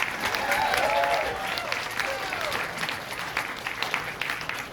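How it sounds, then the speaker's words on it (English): A crowd claps warmly for a young girl at a community puzzle unveiling event in Washington City, Utah, with dense, even applause that swells early and then holds steady, while scattered voices carry over it. "Everybody give a round of applause for the youngest person here."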